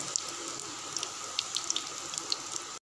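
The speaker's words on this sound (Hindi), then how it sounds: "अब हम इन्हें फ्राई करेंगे, हम इन्हें गोल्डन ब्राउन करेंगे" Potato balls frying in oil until golden brown, a steady hiss of bubbling oil with scattered small pops and crackles, close and continuous with no voices.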